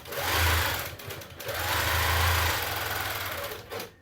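Longarm quilting machine stitching circles, lines and scribbles during a tension check, a loud steady mechanical whir that surges in two long runs with a brief slowdown between, close and alone.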